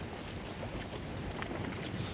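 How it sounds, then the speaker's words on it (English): Steady wind on the Bristol Channel coast buffets the microphone with a constant low rumble and hiss, no voices, the noise unbroken throughout. "A bit windy today, you see."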